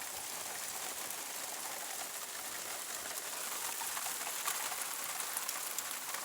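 Rain falls steadily in a soft, even hiss, with scattered drops pattering nearby and a faint bird cooing in the distance.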